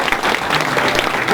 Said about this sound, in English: just a quick round of applause for these gentlemen.